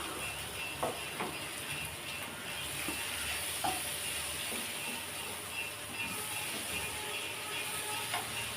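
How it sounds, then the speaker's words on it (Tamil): Egg pepper fry stirred in a hot pan, a soft continuous sizzle with occasional faint spoon scrapes and clicks, fairly quiet and close. "இப்போ லேசாக நல்லா கலந்து விட்றலாம்."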